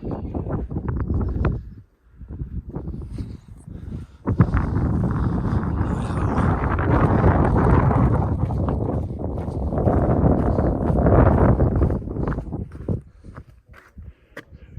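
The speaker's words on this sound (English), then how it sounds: "Freezing cold up here. The wind is blowing." Cold wind gusts across an Appalachian Trail mountain summit, a close, rough roar buffeting the microphone almost continuously, with a brief lull early on and the blowing easing slightly near the end.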